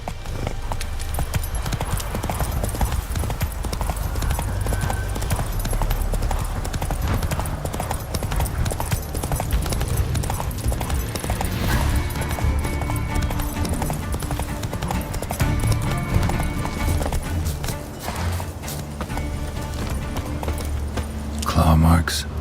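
Horse hooves clip-clopping steadily at a gallop in The Witcher 3, loud and close throughout with a continuous rhythmic beat, while a voice talks over it at times.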